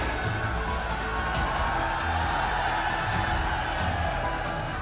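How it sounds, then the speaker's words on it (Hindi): Large outdoor political rally crowd cheering and clapping, a dense continuous roar of voices and applause filling the space, steady and loud without breaks. "बजाओ ताली।"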